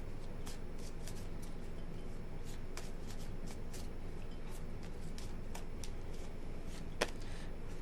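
Tarot cards shuffled by hand in a quiet room, a steady run of soft riffling with crisp card snaps and a sharper slap near the end, no talking.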